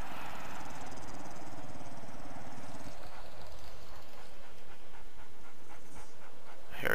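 A dog pants in the video game 7 Days To Die, a rapid, steady rhythmic huffing close by against a constant ambient game background, with no talking.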